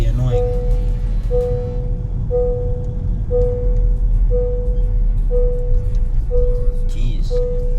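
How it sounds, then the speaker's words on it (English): Seatbelt warning chime in a 2022 Honda Civic Sport, a steady tone repeating about once a second for many rounds inside the cabin over low engine and road rumble, with a voice speaking briefly. "this thing doesn't shut up if you don't wear your seatbelt."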